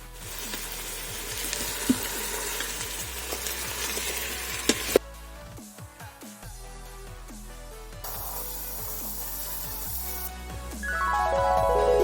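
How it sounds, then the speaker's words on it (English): Chunks of beef stew meat sear in an Instant Pot, producing a loud broadband sizzling hiss. The sound drops and returns in abrupt sections, with a few knocks and clinks along the way. "just sear the outside and then move on"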